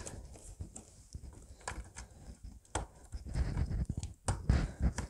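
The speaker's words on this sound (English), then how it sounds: "You can hear that, you can actually hear it clicking." A valve cover gasket being pressed and clicked into place on a BMW E31 850i during restoration, giving a series of sharp, close clicks and clips with handling noise, no speech.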